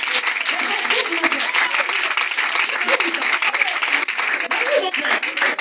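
A church congregation applauds during a Sunday worship service: dense, loud, sustained clapping from many hands filling the whole stretch without a break.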